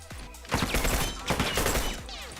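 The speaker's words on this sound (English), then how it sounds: "Managing to land a lot of shots there" Dense gunfire from The Last of Us during a competitive online match: a sustained fusillade of rapid, overlapping shots with a brief lull in the middle, loud and busy throughout.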